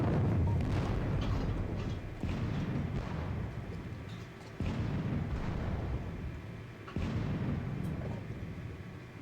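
Artillery fire in a Napoleonic war game at the Battle of Friedland, heard as four heavy booms spaced a couple of seconds apart, each rolling into a dense, rumbling barrage. No one speaks.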